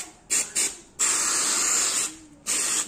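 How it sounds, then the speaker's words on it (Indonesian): Cleaner is sprayed near the radiator of a Yamaha Aerox scooter, heard as two quick short hisses followed by a long sustained spray and a final burst, close and fairly soft, with no talking. "tinggal kita semprot cleaner"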